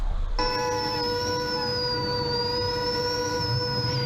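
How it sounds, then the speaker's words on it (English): A high-pitched, steady whistle from a tornado blowing through Pasadena, Texas, southeast of Houston, begins abruptly after a brief pause and holds loud and continuous, wavering slightly in pitch, with no voices. "that's the high-pitched whistle of a tornado blowing through Pasadena, Texas."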